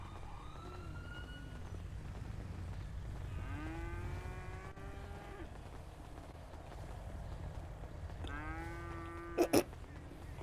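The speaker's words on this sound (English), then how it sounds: "Go, cow!" A cow in a GTA roleplay game lets out a few drawn-out moos, close and clear, over a low rumbling background, with a short loud knock near the end.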